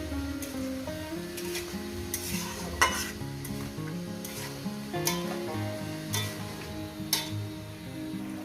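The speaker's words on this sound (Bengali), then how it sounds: "আমি এটাকে প্রায় দু থেকে তিন মিনিট মিডিয়ামে গ্যাসে কষিয়ে" Tomato sautéed in a pan over medium gas sizzles softly while a spoon scrapes and taps the pan in irregular strokes, with a few sharper clinks standing out; no one speaks.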